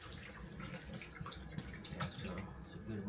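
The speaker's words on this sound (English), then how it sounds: "next thing you want to do is you just get some water in the pan" Water running from a tap into a cooking pan to boil longanisa outdoors, a steady close splashing stream with faint background noise throughout.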